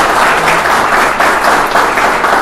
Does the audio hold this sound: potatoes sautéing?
no